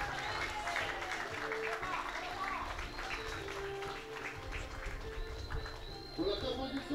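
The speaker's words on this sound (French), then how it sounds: "on les applaudit et les encourage" Audience applause at an under-15 youth football match between New Caledonian and Islands selections, scattered clapping carrying through an outdoor setting with a voice speaking over it and birds faintly audible.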